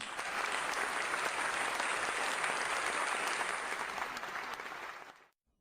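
A studio audience on the quiz show Who Wants to Be a Millionaire applauds steadily, a dense wash of clapping hands that holds for several seconds and then cuts off.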